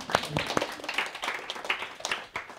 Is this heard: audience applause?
yes